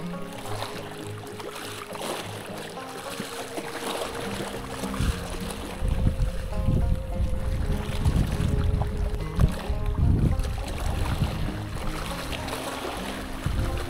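Wind buffets an ultralight fishing boat off Penang as it heads into a headwind against the current, a steady broadband roar with engine-like low rumble swelling louder after the first few seconds, without speech.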